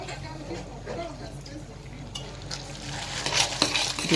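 A spoon scrapes and stirs cabbage tomato sauce in a cooking pot, soft clinks and a low sizzle building toward louder scrapes near the end, with a voice talking over it.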